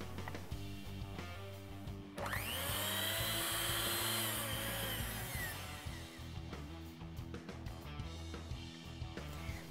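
An electric mixer whipping cream to soft peaks gives a high whirring whine that swells for about three seconds. Quieter clattering and handling noises come before and after it.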